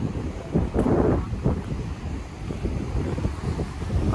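Sea water forced under pressure through a hole in coastal rock in Australia, giving a steady, roaring rush of surging water mixed with wind buffeting, continuous and fairly loud with no talking.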